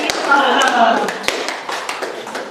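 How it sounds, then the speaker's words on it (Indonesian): Applause for a student group at a school performance, a burst of clapping from an audience with scattered sharp claps and taps, fairly loud, mixed with crowd murmur and voices throughout. "Kita kasih aplaus, silakan duduk."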